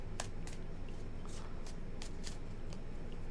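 Tarot cards are shuffled by hand in a quiet room, a faint series of crisp riffling bursts spread across a few seconds with short gaps between them.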